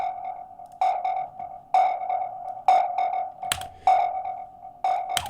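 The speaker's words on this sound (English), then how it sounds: "this dissonant, annoying synthesizer" Dissonant synthesizer in a metalcore breakdown, sounding as repeated loud pulsing stabs roughly once a second, each sustained tone with bright harsh overtones, alone without voices.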